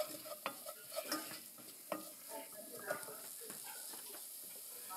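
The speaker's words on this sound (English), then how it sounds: "I am going to add my chili powder. I'm going to let the heat basically release the oils in that powder." Chili powder sizzles and fries in a hot pan while a utensil stirs and scrapes it, with steady close hissing and repeated scraping strokes over several seconds.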